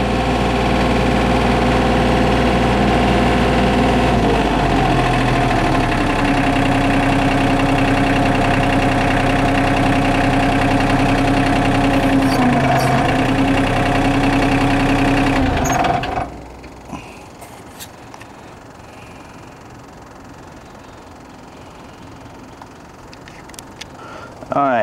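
A motor runs loud and steady at high throttle, spinning without reaching bypass, then cuts off sharply about two-thirds through, leaving quiet room noise.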